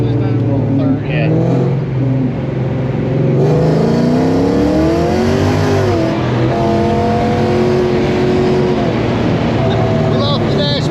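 A 600-horsepower, 2500-pound Fox Body car accelerates hard from a third-gear roll, its engine note droning loud and close, then rising steeply in pitch as it revs, with voices talking over it inside the car.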